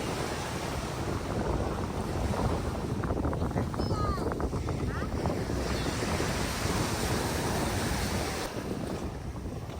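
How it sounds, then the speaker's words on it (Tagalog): Sea waves wash steadily onto a beach with continuous surf and wind rumble. No distinct single break stands out, and brief voices are faintly audible at times. "Natatakot siya sa alon."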